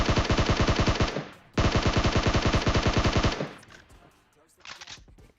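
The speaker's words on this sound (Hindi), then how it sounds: "गोलियां यहाँ पूरी जान से चल रही थी" Rapid automatic gunfire in PUBG Mobile rattles in two long, loud bursts of evenly spaced shots, followed by scattered fainter shots and a short final burst.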